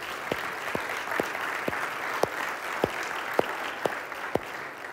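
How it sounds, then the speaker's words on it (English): Church congregation giving a clap offering during a teaching: a background of crowd clapping with sharp, evenly spaced louder claps about twice a second standing out, nine or so in a steady rhythm. "Let's give the Lord a clap offering."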